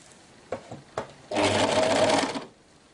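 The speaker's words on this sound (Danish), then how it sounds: "Og jeg overlokker på her." An overlock sewing machine runs in one loud steady burst of about a second, stitching a seam on a kimono, preceded by a few soft handling clicks and taps.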